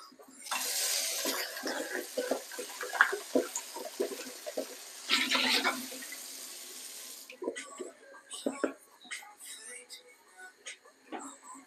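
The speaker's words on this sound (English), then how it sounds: "and then my carrot. It's gonna wash them off first." Carrots are washed under a running kitchen tap: water gushes loudly in a couple of bursts, then stops, leaving wet handling and small clatters nearby.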